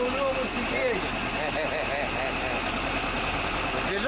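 An old UAZ engine idles with a steady, continuous mechanical rumble and rattle, close by and fairly loud throughout, with voices talking faintly underneath.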